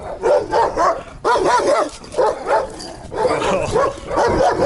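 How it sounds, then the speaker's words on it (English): A dog barks repeatedly in loud, close bursts with short gaps, near an old house on a rural stretch of the Bulgaria–Serbia border, some yips mixed in and no voices. "Oh, that's a scary dog."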